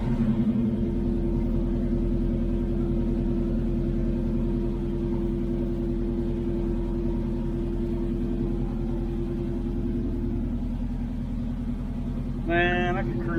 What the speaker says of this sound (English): Still idle a little high.